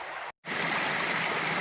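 A river flows steadily beside a hiking trail, its constant rushing wash broken by a brief dropout, then returning evenly.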